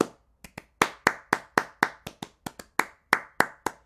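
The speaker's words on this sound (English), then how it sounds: "I've got a drum rack open with these claps." Clap samples from an Ableton drum rack: about fifteen crisp, dry handclaps in a steady, slightly uneven pattern, each a sharp burst with a short decay, all at near-identical volume and heard alone.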